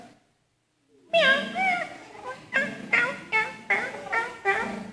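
Several young voices imitate a cat, letting out a string of bright, overlapping meows one after another, close and fairly loud.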